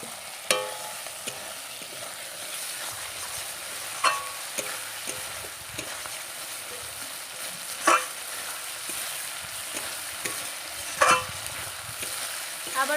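Fried potatoes are tipped into a sizzling spice mix in a pan and stirred, with a constant hiss of frying under occasional scraping clinks of a spoon against the pan.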